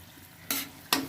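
Chilli chicken gravy with tomato ketchup is stirred in a pan: two quick, loud scraping strokes rise over a quiet background.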